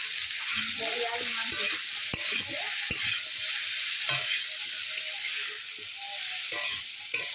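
Mankochu (taro root) curry being stirred as it fries in a pan, with a steady sizzle throughout and repeated scraping, knocking stirring strokes close up, no talk.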